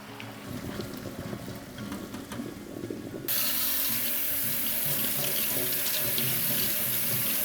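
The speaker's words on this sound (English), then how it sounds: "Our pasta is ready. I'm going to drain that and put it to the side." Cooked pasta drained into a kitchen sink: soft clatter and trickling at first, then a sudden loud steady rush of water pouring close by, alone without speech.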